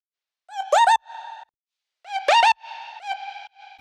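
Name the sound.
vocal chop sample with Waves J37 tape distortion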